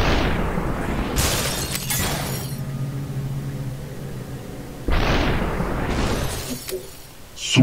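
Gunshots in the video game Superhot land as two heavy booming bursts several seconds apart, each with a sharp attack and a rumbling low tail, no talk over them.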